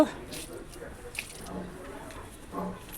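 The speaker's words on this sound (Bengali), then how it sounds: "এটা হচ্ছে মুসুরির ডাল ধোয়া জল, ফুল গাছ, লাউ গাছের গোড়ায় দেব" Water from washing masoor lentils poured onto the roots of flower and bottle gourd plants, a soft uneven splashing and trickling heard close for a few seconds.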